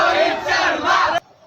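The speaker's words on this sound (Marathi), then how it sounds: "गर्दी बघा." A crowd of cricket fans at Marine Lines, Mumbai, lets out a loud, close roar of cheering that stops abruptly after about a second.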